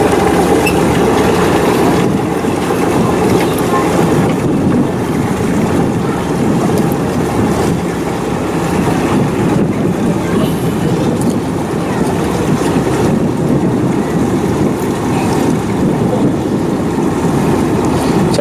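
Houseboat on the Alappuzha backwaters with its engine running, a steady loud droning rumble mixed with water and wind noise, continuous and unbroken throughout.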